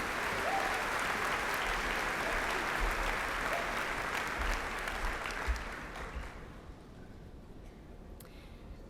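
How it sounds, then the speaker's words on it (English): Audience applause for the platform party at a university spring commencement ceremony, a broad wash of clapping heard at a distance that holds steady, then thins out and fades near the end. "Please join me in giving a warm round of applause to our platform party."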